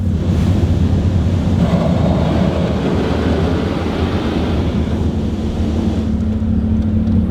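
An automatic car wash sprays water over a Camaro ZL1 parked in the bay, a loud, steady, close rushing hiss that lasts throughout with a low mechanical rumble beneath.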